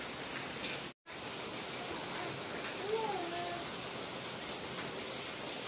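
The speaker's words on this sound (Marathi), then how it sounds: "खूपच असा पाऊस येत आहे" Heavy monsoon rain pours steadily in a rural outdoor setting at dawn, a dense continuous hiss with a brief dropout near the start and faint background tones.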